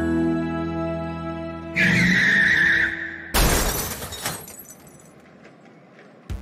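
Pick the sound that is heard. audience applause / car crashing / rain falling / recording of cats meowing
car crashing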